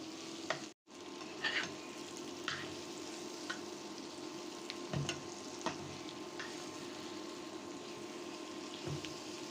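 Spices (chili, turmeric and coriander powder) being stirred in a pan while cooking, a steady sizzle with scattered scraping knocks of the spoon, fairly faint and without talk.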